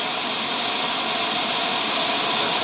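A pressure canner full of ham broth vents steam through its petcock, a loud, steady, unbroken hiss heard up close.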